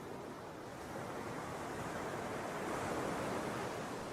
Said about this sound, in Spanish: El ruido del mar